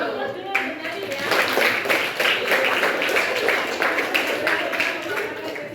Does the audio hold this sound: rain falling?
no